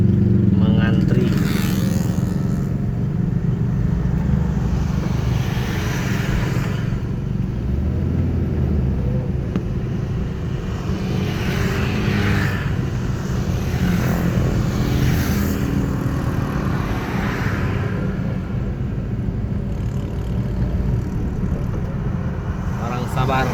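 Slow, congested traffic on the Palembang–Prabumulih road at Gelumbang: a steady, close rumble of car and motorcycle engines idling and creeping along, with no pauses in the drone.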